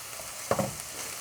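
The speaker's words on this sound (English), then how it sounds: "now is the time to add the garlic" Garlic drops into hot cooking oil with one sudden, close sizzling burst that quickly settles back to a faint hiss.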